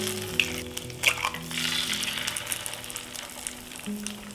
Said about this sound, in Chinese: 那我们现在来煎个蛋